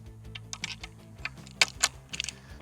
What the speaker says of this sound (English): I'm just going to take the set of keys here on the drive side